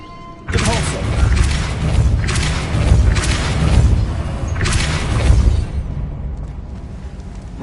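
Booming magical spell blasts from the Depulso charm in the video game Hogwarts Legacy, a run of heavy thuds and bursts that rise and fall over several seconds, loud and close, with a voice faintly underneath.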